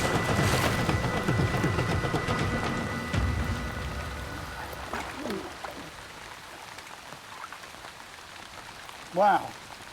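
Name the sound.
rain falling on river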